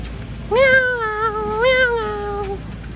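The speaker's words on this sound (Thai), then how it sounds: "เฮ้ยมีแมวด้วยบัว" A cat meows clearly in two drawn-out, rising and falling cries, close and loud, with no talking over it.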